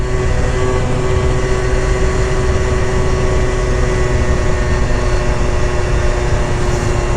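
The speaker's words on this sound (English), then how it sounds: "Now she's just a 50cc chugging along. Starting to rev up a little bit." A 50cc scooter fitted with an aftermarket exhaust drones steadily while climbing uphill, a loud continuous engine tone mixed with heavy wind rush throughout, with no voices.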